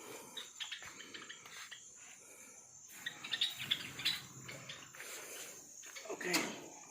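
Pet birds in a cage give soft, scattered chirps and short tweets over a faint background hiss, quiet and intermittent across several seconds.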